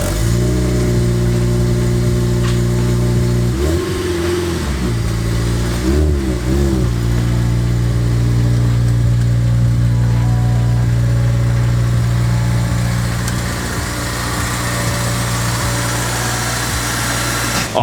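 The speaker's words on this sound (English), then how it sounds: "I'm gonna pull the EP3 Type R out" A Honda EP3 Civic Type R idles loudly up close, then gets a few short blips of the throttle, and its steady, rumbling engine note carries on as the car pulls out.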